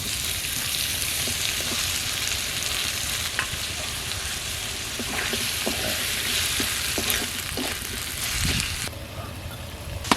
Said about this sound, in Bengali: পেঁয়াজ রসুনটা ভালো করে ভেজে নিয়েছি, এবার দিয়ে দিচ্ছি কুচানো টমেটোটা।